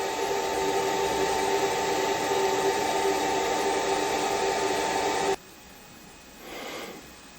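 A die filer runs with its workpiece reversed on a rotary table, giving a steady motor hum with a whining tone. It cuts off abruptly partway through, leaving a quiet room and a brief soft swell of noise.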